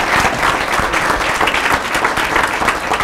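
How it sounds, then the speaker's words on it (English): A middle school assembly audience gives a round of applause for a student of the month, a full, continuous burst of clapping that stays loud and even from start to finish, with no talking heard. "So let's give a round of applause for Samantha."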